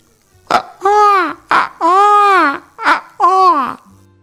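A voice mimics a crying baby, four wailing sobs in quick succession with short gasping breaths between, close and loud, with no other sound.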